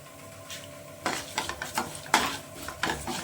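Urad dal and chana dal fry in a pan with a soft sizzle, broken by several distinct spoon-stirring scrapes and clinks against the metal, close and fairly quiet.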